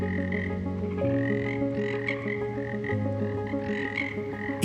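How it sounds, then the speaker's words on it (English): A large frog croaks loudly and close, giving a continuous run of deep, buzzy, throbbing calls with no other voices. "They are known for their loud croaking, especially during the breeding season."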